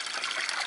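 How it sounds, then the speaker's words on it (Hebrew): Water trickling and splashing steadily during outdoor bathing, a continuous bright rushing wash that is moderately loud and close, with no voices. "יש מים"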